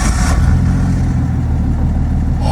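A Datsun 240Z engine, adjusted to factory settings, runs loud and close, with a steady low rumble throughout and a brief brighter burst at the very start.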